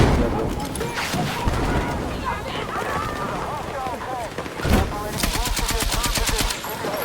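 KTS100 light machine gun fire in an online shooter game: loud rapid automatic bursts, the tightest stretch near the end, mixed with other gunfire and explosions while players talk over it.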